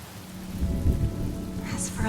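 Rain and thunder in the video game Honkai: Star Rail: a steady wash of rainfall with a low rolling thunder rumble swelling midway, moderately quiet and without speech.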